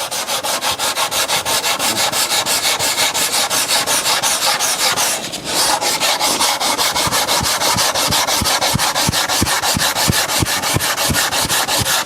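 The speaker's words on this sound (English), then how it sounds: "And as you're sanding it now" Rhythmic hand sanding scrapes back and forth across hard epoxy filling a wood veneer tabletop, steady strokes repeating close up with a brief pause midway.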